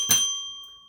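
A bright notification bell chime strikes once and rings out with a sustained metallic tone that slowly fades, clear and alone with no talking.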